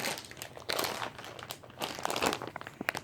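A resealable plastic bag of chopped pecans crinkles and crackles close by in irregular bursts, with quieter gaps between the rustles.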